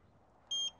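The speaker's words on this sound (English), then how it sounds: "I'm gonna turn this one off right now. Beep. Beep." A 500W electric scooter powers off with a single short electronic beep, clear and high-pitched, sounding once against quiet background noise.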